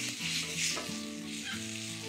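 Burger patties sizzle on a camp grill, a steady close frying hiss with a low hum underneath throughout.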